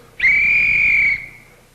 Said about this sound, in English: I will blow the whistle like this